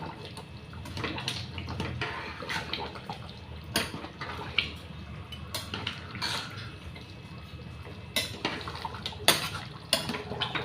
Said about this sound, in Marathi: आता त्याची कोथिंबीर टाकते ॲड. आणि त्याला मस्त मिक्स करून घेऊया.